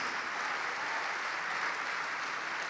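A church congregation applauds continuously, a broad even wash of many hands clapping at a distance, steady and unbroken with no talk over it.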